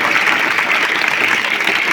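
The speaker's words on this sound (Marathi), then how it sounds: "या सर्वांना आपण जोरदार टाळ्या वाजवून आजच्या राष्ट्रीय क्रीडा दिनाच्या शुभेच्छा व्यक्त करूया" A crowd at a school celebration for National Sports Day claps loudly and steadily in a brief, dense burst of applause.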